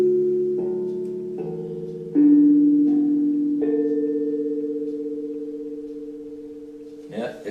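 A tongue drum cut from a low carbon steel propane tank is struck note by note, about five hits in succession, each ringing on with a slightly impure metallic, tank-like sustain that fades slowly, close and clear, ending with a faint clatter.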